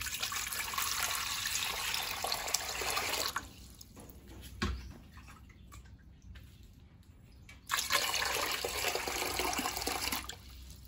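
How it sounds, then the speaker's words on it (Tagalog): Water pours into a cooking pot in two bursts, a steady close splashing rush that pauses in the middle with a few drips and then resumes. There are no voices. "Lagyan natin ng tubig."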